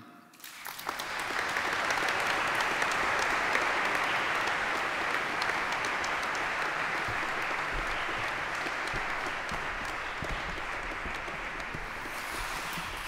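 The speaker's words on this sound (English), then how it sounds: "Please give a very warm round of applause to Catalina Arnoudse, Emma Kovalova, Antonio" Sustained audience applause at the Four Freedoms Awards ceremony, swelling within the first second and holding a steady, dense roar of many hands for about twelve seconds before thinning slightly near the end.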